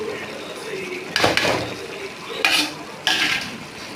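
Chicken and chili powder get stirred into a sauce in a pan, with three loud bursts of spoon scraping and bubbling over a low simmering background.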